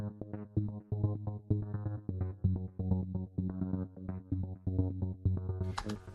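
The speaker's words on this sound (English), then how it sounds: "This second arpeggiator sounds a bit like this." Second arpeggiator on a synth, playing a steady, repeating pattern of bright pitched notes over a bass line, with a cymbal-like wash near the end; loud and alone.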